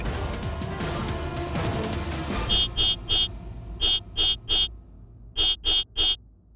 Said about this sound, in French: qui est-ce qui klaxonne comme ça si fort devant ma maison?